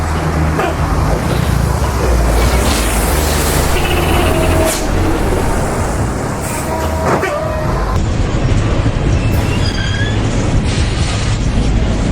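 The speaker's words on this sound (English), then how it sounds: "This dude barely makes it across before the train speeds in." A train speeds through a railway crossing loudly with heavy rumbling and rattling wheels, steady throughout, with a few faint squeals and clanks.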